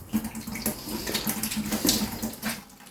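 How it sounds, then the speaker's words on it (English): Radiator fluid from a 2004 Honda CR-V pours out of the drain into a bucket, a steady splashing trickle with a gurgling rhythm, close and fairly quiet. "So this will drain the radiator fluid"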